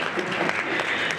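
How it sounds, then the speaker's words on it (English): An audience at an awards ceremony claps steadily for the DJ, a dense, even burst of applause throughout, with faint voices underneath. "Let's clap hands for our DJ."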